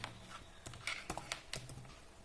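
Typing on a computer keyboard into an MS Word document: a quick run of light, irregular key clicks, close and fairly quiet, with no talking.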